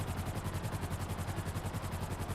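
Helicopter flying in GTA Online, a steady rapid rotor chop throbbing in even pulses with a broad engine roar beneath, close and continuous, no voices.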